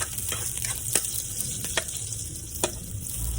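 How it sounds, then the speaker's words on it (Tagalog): Garlic sautés in hot oil for chicken cooked with coconut milk and turmeric, a constant close sizzle with a few sharp stirring knocks against the pan. "Unay mantika at pagka mainit na ilalagay na natin yung bawang."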